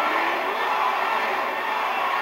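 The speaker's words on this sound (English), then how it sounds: "I think you're going to hear the crowd continue to change up back and forth from this entire fight." Boxing arena crowd at the Vargas vs Mosley fight roars in a steady, distant wash of cheering and noise, with no clear individual voices.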